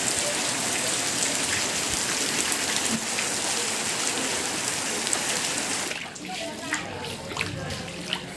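Steady rain pours down in a dense, even hiss close by, thinning slightly toward the end as scattered drops patter more distinctly.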